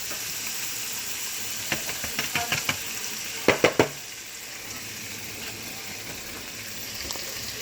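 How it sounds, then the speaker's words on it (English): Ingredients sautéing in olive oil for fried rice on medium heat, a constant low sizzle with a short run of spatula taps and scrapes against the pan in the middle, close, no talking. "And then you saute it just like this"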